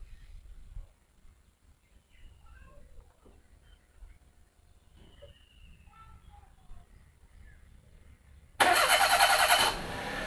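A Daihatsu Move L9 RS with a 660 cc turbo engine is started remotely by phone app; after quiet handling noises and faint beeps the engine abruptly cranks and catches with a loud burst, then settles into a steady idle.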